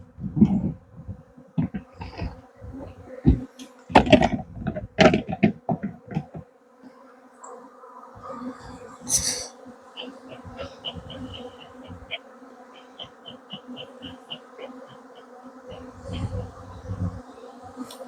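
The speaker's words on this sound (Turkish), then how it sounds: "Katta da bu kadar arı yoktu." Dense buzzing of many honeybees swarming close by during a honey harvest from a hive in Adana, with rustling and handling noises in the first half and a steady hum throughout.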